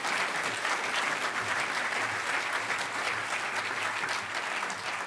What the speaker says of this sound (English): So everybody give Aesthetics, one of the organizers, a really huge round of applause